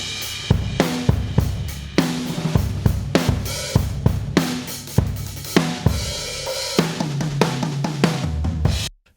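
Extremely compressed drums play a steady groove, the whole kit pumping with punchy kicks and snares and a dense, squashed wash of cymbals, loud and close, ending abruptly.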